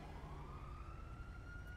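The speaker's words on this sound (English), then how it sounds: "Ooh, more sirens." An emergency vehicle siren in GTA 5 wails faintly in the distance, one steady rising tone under a low rumble of background noise.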